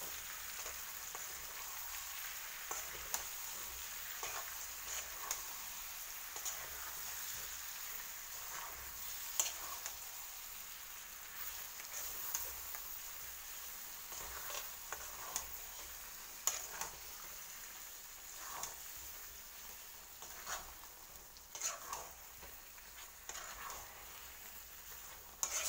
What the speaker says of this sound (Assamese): চাওক গুড়খিনি মিহলি হৈ আছে